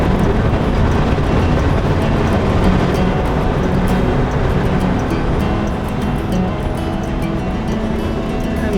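An old Willys Utility Wagon drones on a test drive, a loud, steady, rumbling engine and road noise running continuously without letup.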